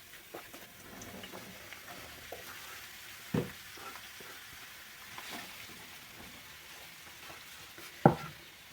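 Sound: onion frying in a pan

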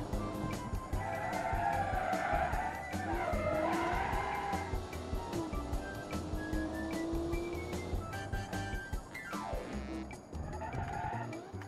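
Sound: race car skidding and spinning out, Automation racing video game

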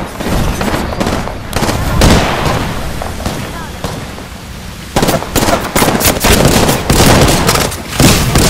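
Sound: thermite grenade thrown in video game Apex Legends

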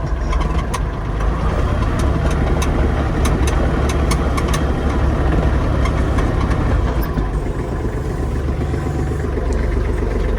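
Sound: Kubota GL-25 mini tractor driving in fourth gear

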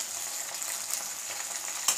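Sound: food frying in oil

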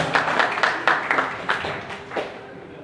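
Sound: audience applause at an auction

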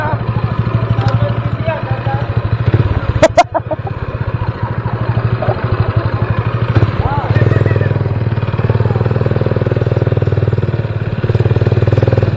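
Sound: motorcycle engine running

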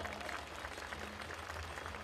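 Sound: audience applause welcoming guests to stage

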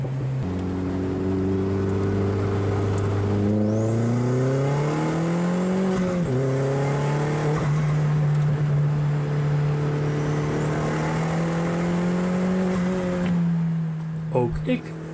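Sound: supercharged Opel Speedster car engine in paddock

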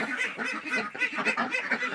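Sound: two ducks making noise

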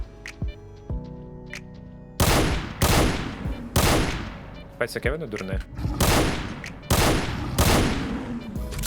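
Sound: gunfire from incendiary rounds in video game S.T.A.L.K.E.R. Lost Alpha

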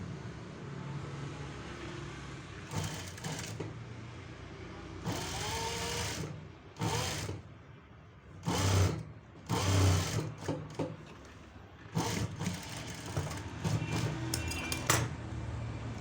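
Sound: sewing machine edge stitching fabric

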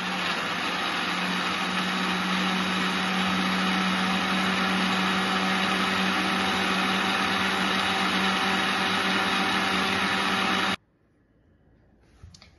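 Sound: mixer grinder blending bottle gourd juice

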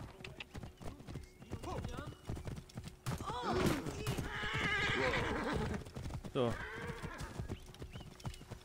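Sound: horse hooves clip-clopping, Assassin's Creed Origins video game

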